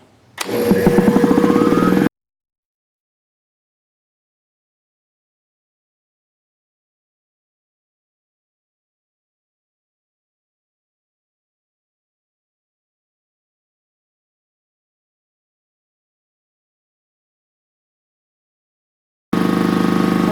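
An Ingersoll Rand T30 2475N7.5 air compressor runs loudly in two short bursts, one at the start and one at the end, with silence in between.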